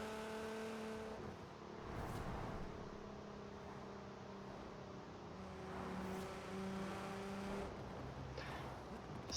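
A maximally modified high-power car in the racing game Forza Horizon 4 drones and revs continuously, its engine tone rising and falling through gear changes at a faint, steady level.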